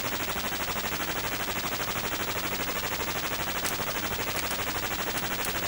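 Rapid, continuous automatic fire from a helicopter in the MSX game Choplifter, a dense chiptune-style rattling stream of shots with an even, machine-like pulse and no pauses, loud and steady with no talk.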